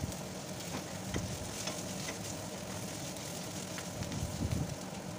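Ginger, garlic and green chilli fry in a little oil over a medium flame for an Odia chana dal and papaya curry, a steady, fairly faint sizzle with occasional crackles and stirring scrapes.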